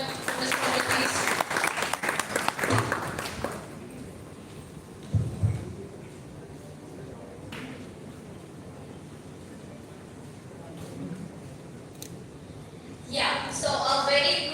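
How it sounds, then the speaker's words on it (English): Applause from a college audience in Delhi greeting a workshop facilitator, dense clapping for about three seconds, then a quiet room with a short burst of clapping near the end. "Everyone, a big round of applause for Ms. Komal, please."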